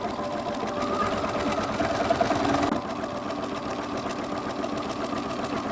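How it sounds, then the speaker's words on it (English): A sewing machine runs steadily, stitching rows of gathering stitches along the edges of a ruffle cloak's fabric, with a continuous mechanical whir that slows slightly partway through. "you're just going to stitch 1/4 of an inch away and then 1/2 of an inch away with gathering stitches"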